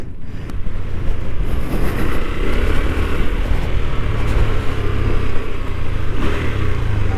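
A KTM 390 Adventure motorcycle ridden off-road in Supermoto mode with rear ABS disengaged, its engine droning steadily and loudly throughout amid rough gravel and wind noise, with no talking.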